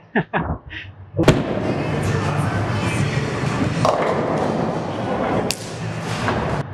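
A Swag Buzzer Beater bowling ball strikes the pins in a light hit, giving a sharp crash followed by a sustained rumble and clatter of falling pins in a noisy alley, with a few thuds at the start and another crack later.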